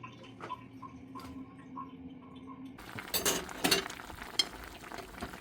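A quiet tonal hum gives way to soft bubbling, sizzling and stirring from seaweed soup cooking in a pot on the stove, with no talk.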